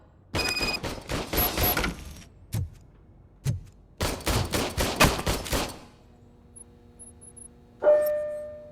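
Bursts of service-weapon gunfire in the RoboCop Rogue City video game, several loud rapid volleys separated by short pauses, ending in a ringing metallic clank.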